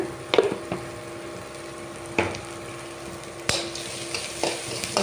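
Vegetables fry in a pan with a pinch of turmeric powder, a steady low sizzle broken by several sharp spatula scrapes and knocks against the pan; no speech.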